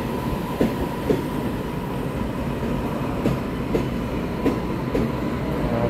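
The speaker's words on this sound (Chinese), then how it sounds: "进站哦。" Electric multiple-unit train pulling into a station on Taiwan's mountain line, a steady rolling rumble punctuated by rhythmic clickety-clack wheel beats over rail joints.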